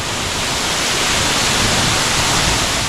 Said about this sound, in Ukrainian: І дивіться, який крутий водоспад.